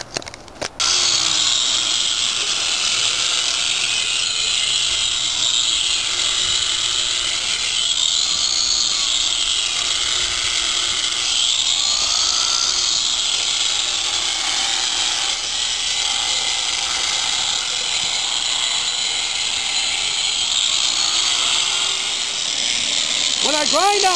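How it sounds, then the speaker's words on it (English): A propane torch roars steadily and loud for the whole stretch, heating and drying fresh mortar in brick wall joints during a winter brick repair. "we're going to go a step further and torch it so that we can get it set up and it'll be nice and dry"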